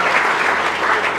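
Applause from a crowd celebrating students on their class 12 result day, a dense, loud, continuous burst of clapping.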